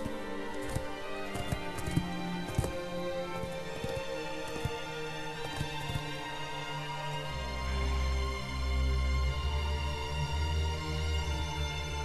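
A horse gallops in the video game Shadow of the Colossus, with repeated rhythmic hoof clip-clops over the first seven seconds, then a louder low rumble of game ambience takes over without talk.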